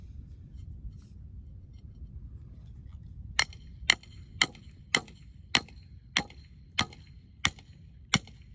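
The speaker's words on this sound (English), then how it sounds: "Now I'm going to get a D-pin here, hammer it in" Nine sharp, ringing metallic hammer blows drive a pin into wooden shed framing, evenly spaced about half a second apart, close and loud over low background rumble.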